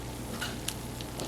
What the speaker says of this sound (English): can you hear the sizzle sizzle?